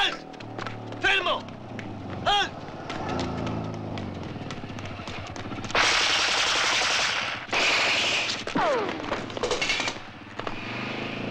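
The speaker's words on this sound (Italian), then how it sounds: "Sparano anche in paese ora." Loud machine-gun fire crackles through a scene from the 1959 war film Die Brücke, with sharp single shots early on, then long dense bursts. Voices and other scene sounds mingle underneath.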